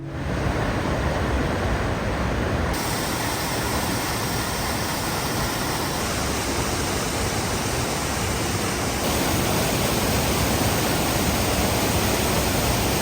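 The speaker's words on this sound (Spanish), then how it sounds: "Escuchemos el ruido del agua." Steady, loud rushing water roars without a break, a dense wash of noise like a nearby waterfall or rapids.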